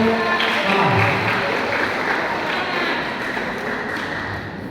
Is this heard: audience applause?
yes